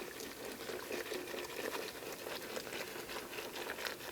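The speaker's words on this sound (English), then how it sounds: "now I'm going to give this a stir to get that all" Creamy potato soup with bacon and potato chunks being stirred in a pot, giving a soft, steady bubbling and wet patter, faint and continuous throughout.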